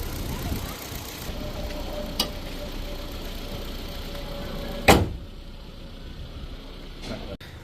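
A car engine, recently checked for injector and spark plug faults, idles very quietly after being started, a faint steady hum broken by a couple of sharp clicks and a thud.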